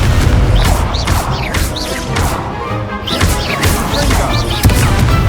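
Confringo blasting curse exploding during a Hogwarts Legacy goblin tower fight, loud booming crashes packed into a dense, busy battle mix with whooshing spell effects throughout.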